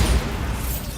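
A Bombarda explosion spell goes off in Hogwarts Legacy, a single loud, deep boom with a low rumbling tail that fills the short moment close up, with no talking.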